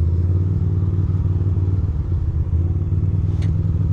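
A Ducati motorcycle engine runs close by in New York City, a deep, steady rumbling idle with faint clatter, alone throughout.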